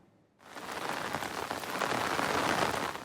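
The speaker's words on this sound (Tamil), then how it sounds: "பல்வேறு மாவட்டங்களில் நேற்று இரவு பரவலாக மழை பெய்தது" Night rain pours across districts of Tamil Nadu around Ranipet, Walajapet and Arcot, starting abruptly as a steady hiss of drops on surfaces and building slightly louder, with no voices.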